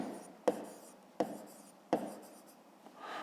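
A pen writes on paper while a fifth-grade maths exercise is worked out, three sharp taps of the pen tip between soft scratching strokes, close and quiet with no talk.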